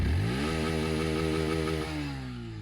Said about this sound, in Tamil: இப்போ வந்து ஒரு ஃபுல் ரேவ் இன்ஜின் நாய்ஸும் எக்ஸாஸ்ட் நோட்டும் பார்த்துருவோம்.